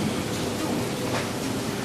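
Steady rain falls during a thunderstorm, a dense, even hiss of drops with a low rumble underneath, continuous and fairly loud throughout.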